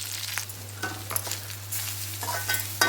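Green chillies and garlic sautéing in a pan while jackfruit is cooked, giving a steady sizzle with scraping stirs that come in bursts, close and moderately loud, with no talk.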